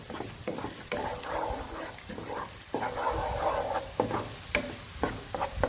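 Chopped onion and garlic sautéing in a pan, a steady soft sizzle broken by the scrape and clatter of stirring, close and fairly quiet with no talking.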